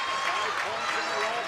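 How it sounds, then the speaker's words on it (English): Crowd at a Wisconsin high school boys basketball sectional semifinal, Kimberly versus Kaukauna, roaring and cheering steadily on its feet through a tight finish, a dense continuous wash of voices with a commentator talking over it. "This crowd is on their feet"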